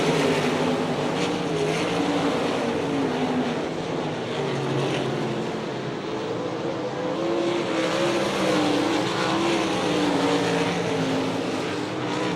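World of Outlaws sprint cars race at Hartford, Ohio, a dense, continuous roar of engines heard from a distance, with wavering pitches as cars sweep around the track and no clear voices over it.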